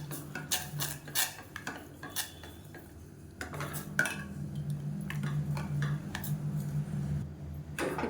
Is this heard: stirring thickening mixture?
yes